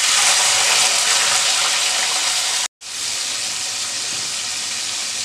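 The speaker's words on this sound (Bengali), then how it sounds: "এবার ভেজে নিব আমি বরবটি।" Yardlong beans fry in a pan with a loud, steady, close sizzle that cuts out for a split second midway, then resumes just as strong.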